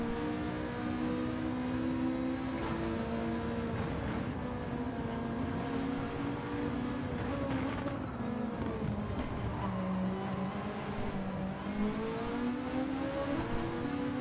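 Sustained race car engine drone from a racing video game featuring a McLaren, a steady continuous whine with pitch sweeping up and down through gear changes, loud and present throughout with no talk.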